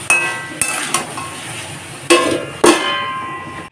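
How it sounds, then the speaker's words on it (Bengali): A metal plate set over a pan of cooking snake gourd and potatoes: a handful of sharp, ringing metallic clinks at uneven intervals, close and fairly loud with no talk. "কষে নিয়ে ঠিক একইভাবে আবার থালা দিয়ে চাপা দিয়ে দেব।"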